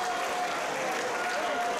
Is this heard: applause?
yes